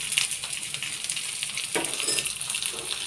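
Colocasia leaf patrode crackling and sizzling steadily in hot oil in a pan, a continuous close frying hiss with a brief louder burst of spatter partway through.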